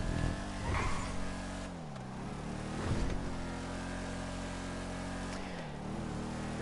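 The Vapid Ellie muscle car's engine revs hard in Grand Theft Auto 5, a loud continuous roar that climbs and drops with gear changes, pitch dipping and recovering several times with no talk.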